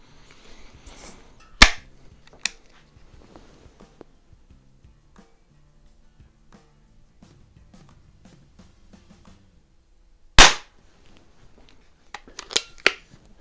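A .177 Beeman P17 and a Predom Lucznik target pistol fire two sharp, sudden air-pistol shots several seconds apart, with a few faint clicks and handling noises in the quiet stretches between.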